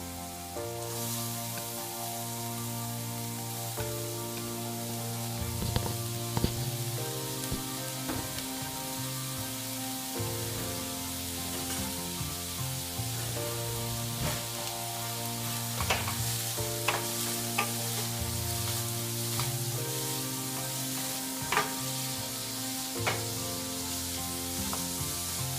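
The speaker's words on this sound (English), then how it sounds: "Once oil hot, add 1 chopped onion" Chopped onion frying in hot oil for a goat liver fry, a steady close sizzle with occasional stirring scrapes and clinks over low background music.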